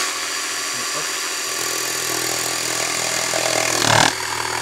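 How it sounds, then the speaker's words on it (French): Jigsaw cutting wood during a renovation, a loud, steady buzzing motor whine held close for several seconds, rising briefly in intensity near the end before easing off. "J'ai développé une super technique pour avoir une coupe propre à la scie sauteuse"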